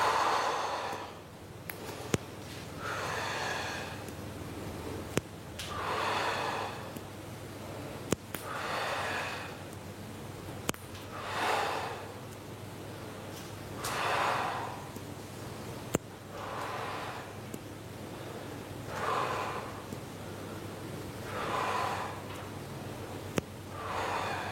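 Steady rhythmic breathing during a bodyweight workout of lateral raises and knee bends, with about nine regular breath cycles of slow inhales and exhales, close and fairly quiet, with faint rustling and no talk.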